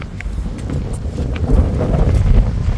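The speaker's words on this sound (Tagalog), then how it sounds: "lakas ang hangin" Strong wind buffets the microphone on the Space Walk in Pohang, South Korea, in a constant low roar, gusting louder midway, with no voices.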